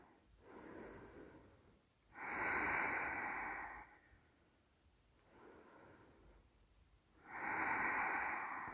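Steady nasal breathing during a yoga pose, two long loud breath cycles with audible rushing air, alternating with quieter pauses, close and alone.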